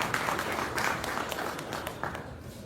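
Audience applause at a React developer meetup in Chennai, a steady wash of clapping from a room of people that swells and thins over a few seconds before tapering off.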